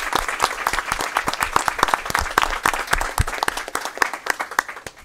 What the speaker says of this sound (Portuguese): Eu queria pedir uma salva de palmas para todos vocês que estão aqui.